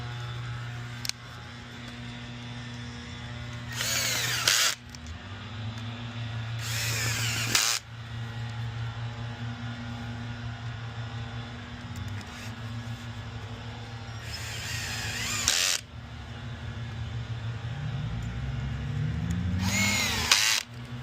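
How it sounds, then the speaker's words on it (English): A power drill set to torque mode drives screws in short bursts, each several-second whir rising in pitch before it cuts off, clear and close with quiet pauses between. "With this drill, what we're doing is we're setting it to this torque mode so we don't turn it all the way."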